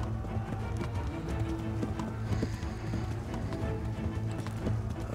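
A horse gallops in Kingdom Come: Deliverance, steady rapid hoofbeats thudding under a low, continuous in-game ambience, fairly close and moderately loud throughout.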